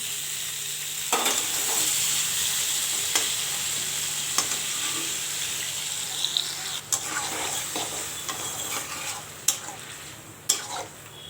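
Pointed gourd pieces fry in hot oil with salt and turmeric, a soft steady sizzle broken by repeated scraping stirs and a few sharp spatula clinks against the pan.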